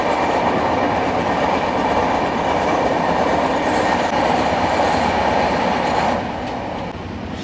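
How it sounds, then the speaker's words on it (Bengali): Sealdah Rajdhani Express train rushing past on the rails, a loud continuous roar of carriages and wheels that holds steady and then drops sharply as the last cars clear, with no voices. "এই আসছে শিয়ালদা রাজধানী এক্সপ্রেস।"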